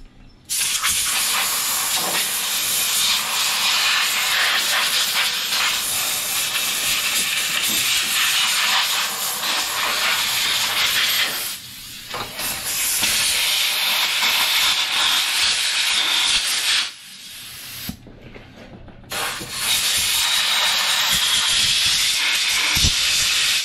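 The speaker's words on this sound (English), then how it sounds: "blow all this crap out of here now too." Compressed air blasting debris out of a vintage heirloom lawn mower, a loud continuous rushing hiss that stops briefly a few times and then resumes, with no talk.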